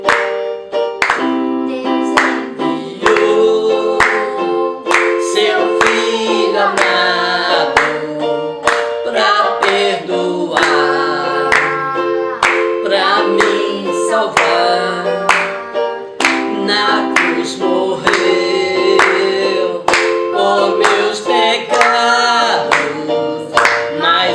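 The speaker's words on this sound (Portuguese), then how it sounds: "Adora Ele com palmas, com alegria, porque Ele vive." A worshipping congregation claps hands in rhythm, with regular sharp claps keeping time over loud sung music throughout.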